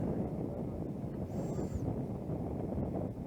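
A headwind on the Bethells disc golf course, a steady low rumble of wind buffeting the microphone that persists throughout with no clear voices.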